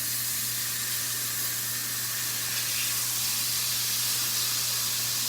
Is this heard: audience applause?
no